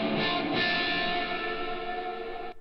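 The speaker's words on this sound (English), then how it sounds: "There's no tail to the reverb at the end of the region" A dense, heavily reverberant wash of sound from a reverb effect in Logic Pro X holds steady, then stops abruptly at the end of the region with no decaying tail.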